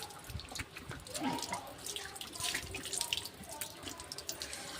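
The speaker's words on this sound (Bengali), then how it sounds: "এখন আমি ট্যাপে এসে একটু মুখটা ধুয়ে নিই।" Water running from a tap as someone washes their face, a soft splashing flow with small drips and splatters, faint and close, with a little background voice.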